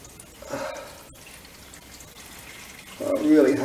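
Acetone is poured into a 20-litre Honda CB900 motorcycle fuel tank, giving a soft liquid splash and gurgle in two short bursts, the second louder, with faint clunks between.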